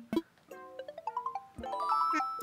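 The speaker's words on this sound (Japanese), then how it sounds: "電話が来たね。" Phone ringing in Animal Crossing: New Horizons, a bright chiming jingle of short ascending tones followed by a fuller sustained chord, clear and fairly quiet with almost no talk.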